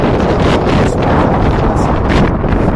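Strong wind on a Mediterranean sea cliff on Gozo in bad weather buffets the microphone in a continuous, loud roar with gusty rustling throughout and no voices.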